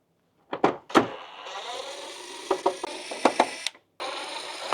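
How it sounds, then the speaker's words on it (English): A cordless driver removes Phillips screws from the plastic cover of a Tosot mini split air conditioner, giving close, sharp ratcheting clicks and short whirring bursts, then a brief pause and one more run. "So now we've got to pry up all 3 of those tabs and take those Phillips screws out."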